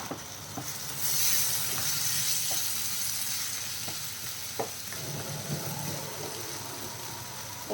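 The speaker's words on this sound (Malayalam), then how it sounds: "അപ്പോൾ ഇതിപ്പോൾ നമുക്ക് എല്ലാം കൂടെ ഒന്ന് മിക്സ് ചെയ്യണം" Egg kothu chapathi mixture frying and being stirred in a pan, a steady sizzle that swells louder partway through, punctuated by sharp spatula taps against the pan, with no voices.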